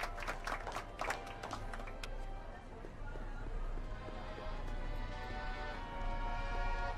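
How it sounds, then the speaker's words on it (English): Audience applause as sharp scattered claps at first, settling into a continuous wash of clapping with some voices, moderately distant and sustained. "How about a round of applause just for the heck of it?"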